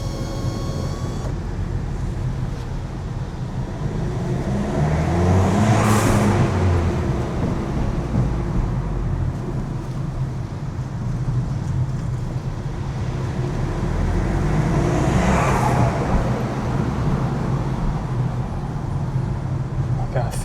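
A Ford Fiesta ST Mk7 driven with the window down in a building, its engine droning under broadband road noise and swelling through two louder pulls, with a voice talking over it.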